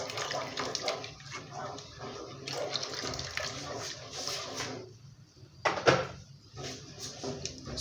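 Hot water being worked into rice fufu in a pot over a fire, a continuous wet sloshing and scraping of stirring, with a louder knock partway through.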